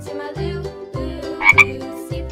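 A frog croaks in a few short, sharp, close bursts set against a soft repeating low background rhythm.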